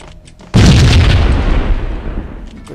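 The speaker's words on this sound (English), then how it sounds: "Grenade. One here." A grenade goes off in the Max Payne shooter game: a single loud, heavy boom strikes suddenly after a quiet moment, then rolls into a long rumbling decay that fades slowly over the next two seconds.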